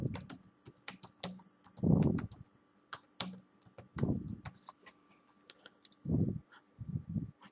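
Typing on a computer keyboard while entering a caption, with irregular clusters of close, crisp keystrokes and short pauses between bursts, and no talking.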